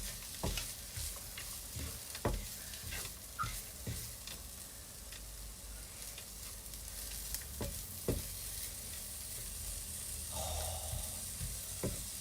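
Onions and ginger fry in a pan for a chicken katsu curry, giving a steady close sizzle broken by sharp scrapes and knocks as the pan is stirred.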